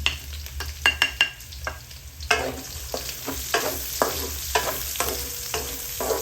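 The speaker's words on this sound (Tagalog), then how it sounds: "Ngayon, igisa na natin ng bawang sibuyas." Garlic and onion sauté in a hot pan with oil, giving a steady sizzle broken by repeated scraping and stirring strokes of a utensil, close and fairly loud.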